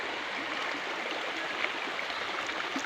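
A mountain stream flows steadily, its water rushing and gurgling in a continuous close wash with no pauses, heard alone without voices.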